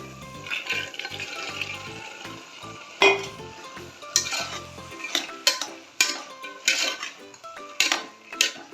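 Metal spoon scrapes and clinks against a pan while vegetable pulao masala with mixed vegetables and field beans is stirred, with irregular sharp knocks over a faint frying hiss and no voices.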